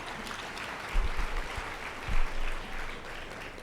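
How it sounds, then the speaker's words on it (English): An audience at a FIFA women's football symposium claps in a large hall, a moderate wash of applause with a few low thumps, steady and fairly close throughout. "we should all give ourselves a round of applause, and the males should clap even harder for us"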